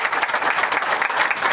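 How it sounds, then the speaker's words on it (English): An audience at the Polymer Logistics groundbreaking ceremony claps in a steady, dense burst of applause that holds at even loudness throughout the short moment. "So a round of applause for them."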